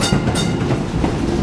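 Diesel locomotive train passing at a Minnesota railway site, a loud close rumble with rhythmic clattering wheels on the track, brief and continuous.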